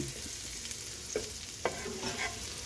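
Kimchi fried rice with luncheon meat frying in a pan: a steady sizzle with a few spatula scrapes and taps as it is stirred.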